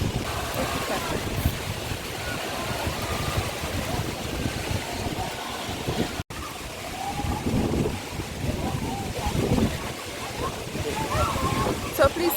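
Wli waterfall rushes in the rain, a continuous broad roaring wash with rough low-end buffeting and a brief dropout midway, talking faintly mixed in.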